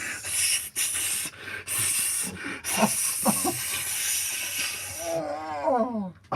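A voice imitates sizzling with several bursts of harsh, breathy hissing broken by short pauses, ending in a brief voiced warble.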